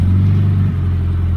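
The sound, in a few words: Scion FR-S car engine revving with aftermarket muffler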